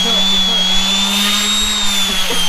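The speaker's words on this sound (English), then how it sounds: "what I know is that they're sanding it down" Power tool whine, likely a sander, working down a front bumper on an NA Miata being converted with a custom Subaru Hawkeye bumper; a steady continuous drone with a high tone, nearby and loud throughout.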